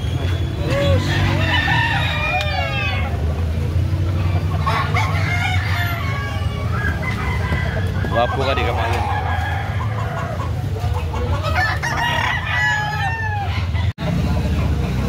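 Gamecocks cluck and a rooster crows amid a busy crowd at a Carbon market poultry stall in Cebu City, with people chattering nearby and a steady background hum.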